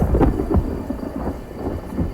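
Thunder rumbles low and heavy under steady rain before a storm, with a few deeper booms rising out of a continuous wash of falling water, fairly close and loud throughout.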